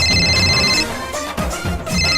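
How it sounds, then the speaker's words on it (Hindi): A mobile phone ringtone plays a loud, steady electronic melody indoors during a Rajasthani and Haryanvi comedy sketch. It rings continuously through the whole stretch with no voices over it. "ये किसका आ रहा है फोन?"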